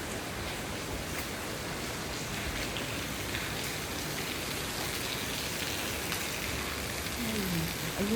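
Steady heavy typhoon rain pours down in a continuous dense hiss, loud and close, with a faint voice briefly near the end.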